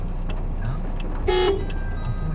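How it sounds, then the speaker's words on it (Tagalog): A single short car horn toot sounds partway through, heard inside an automatic-transmission car, over a low steady background rumble. "ito yung busina"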